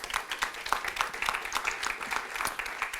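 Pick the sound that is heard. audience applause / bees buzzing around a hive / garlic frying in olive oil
audience applause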